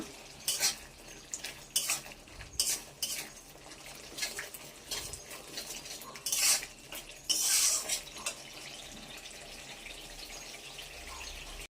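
A spoon scrapes and knocks against a pan while masala spice paste is stirred and sautéed for a Bengali potol (pointed gourd) dish, with irregular metallic clinks and scraping under a soft sizzle, close and fairly quiet.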